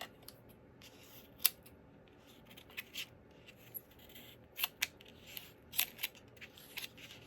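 Scissors snip through cardstock edges on a handmade card front, a handful of crisp, quiet cuts spaced irregularly, close up with no talking.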